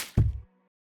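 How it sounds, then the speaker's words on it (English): Drum fill one-shot from a music sample pack: a heavy low thump with a short ringing tail, followed after a brief silence by a quieter hit, played alone. "So we have this fill one shot."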